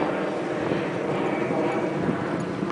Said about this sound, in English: you can't even see the jet that's flying over because it's so overcast